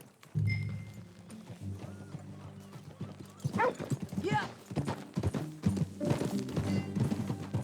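Horse hooves clip-clopping at a steady riding pace in the Red Dead Redemption 2 video game, close and rhythmic, with a brief spoken voice and a whinny in the middle.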